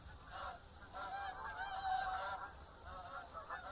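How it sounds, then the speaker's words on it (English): Flock of geese honking continuously in theHunter: Call of the Wild hunting game, many overlapping calls at mid distance over steady ambient outdoor noise. "So much geese. I can hear them."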